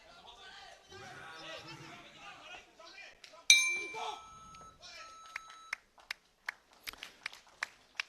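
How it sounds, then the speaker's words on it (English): Boxing bell at an amateur 80 kg bout, a single bright ringing clang that hangs over crowd chatter and commentary, with scattered claps and knocks afterward. "So there goes the bell to signal the end of the contest."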